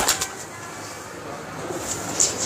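Pigeons coo softly amid a rustle of flapping wings nearby, with faint background noise throughout.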